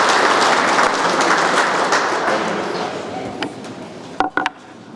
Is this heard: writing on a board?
no